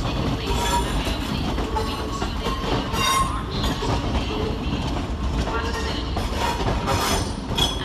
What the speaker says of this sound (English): your final train of this session is 380009, working the 1512 ScotRail service to Paisley Canal